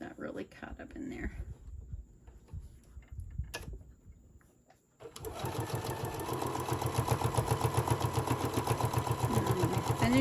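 A sewing machine stitches a decorative hot pad. Faint handling and a brief pause come first, then the motor starts and runs steadily with a rapid, rhythmic needle chatter, close and loud, while a person talks over it.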